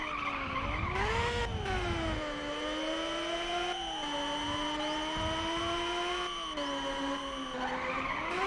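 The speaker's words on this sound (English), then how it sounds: "Car behind sounds like a frigging spaceship." A race car engine in Ridge Racer Type 4 whines at a high pitch with sweeping rises and falls, loud and continuous alongside screeching tires, with no talk.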